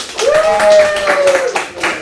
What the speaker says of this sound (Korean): 힘내 이거 힘내라 박수입니다